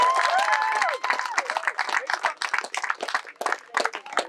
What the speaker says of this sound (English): Let's give these junior shooters a huge round of applause.